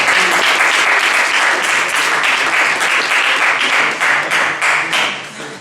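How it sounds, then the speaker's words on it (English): An audience claps for presenters at a 5G technology Q&A session in Melbourne, a steady burst of close, dense applause lasting several seconds before thinning out. "A round of applause to our presenters."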